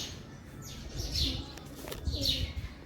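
Two brief bursts of sparrow chirping sound from birds near a house on a hot day, moderately faint over a soft outdoor background hum.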